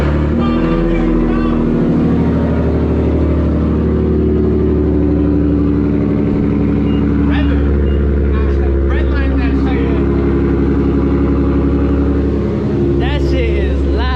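A car engine starts its first run after sitting unused for two months, then idles loud and rumbling throughout, with people talking over it now and then.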